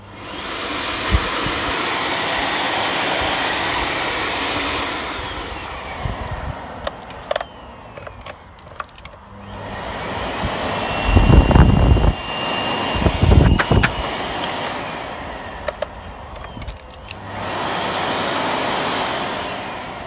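A Miele S6210 vacuum cleaner, just reassembled with a partly working switch, runs in steady loud bursts that cut in and out between quieter gaps and clunks.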